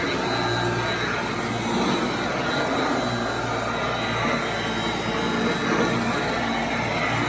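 Upright 1991 Royal Model 882T vacuum cleaner running on hallway carpet, a loud, steady motor roar with constant whine that does not let up, with no talk.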